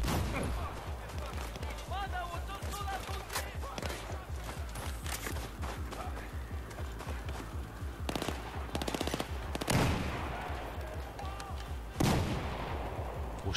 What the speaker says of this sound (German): Wo schießt der denn hin?